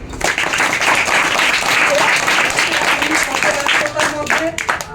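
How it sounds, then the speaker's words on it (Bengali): An audience at a school coaching-centre celebration of Rabindranath Tagore's birth anniversary claps to welcome a primary school teacher, dense, loud applause that swells and holds, then thins into scattered claps near the end. "আমরা হাতের তালির মাধ্যমে স্বাগত জানাবো"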